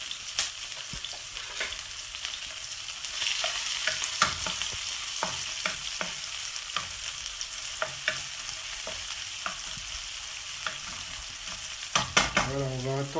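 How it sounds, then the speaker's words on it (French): Onions frying in a pan are stirred steadily with a utensil, a continuous close sizzle broken by repeated scraping strokes, with a louder burst of clattering near the end; no one speaks. "Je vais remuer."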